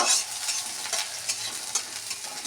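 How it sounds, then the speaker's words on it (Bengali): Bright, busy sizzling and crackling of onion, nigella seeds and dried chili frying in hot oil, steady and close, with light stirring. "পেঁয়াজ কালো জিরে আর শুকনো লঙ্কা এটাকে আমি ভাজছি"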